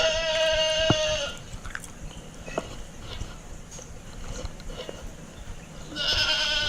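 Goat bleating during a flood rescue after Hurricane Harvey, with one loud wavering bleat near the start and another toward the end, separated by quieter splashing and scattered small knocks.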